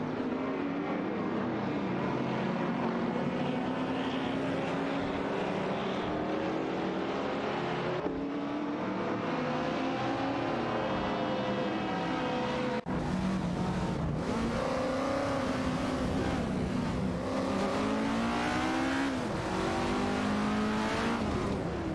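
Race cars in an AI racing video game, including a Fiat X19 Dallara and a Porsche 904, roar loudly with rising and falling engine pitch as they rev and shift, a continuous close blare with no talk.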